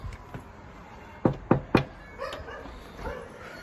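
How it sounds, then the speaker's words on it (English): Two dogs bark in a quick burst of three sharp barks near the middle, followed by softer yips and whimpers, fairly close but moderate in level. "Let's see if we can get the dogs, Yuffie and Gracie, going pretty good"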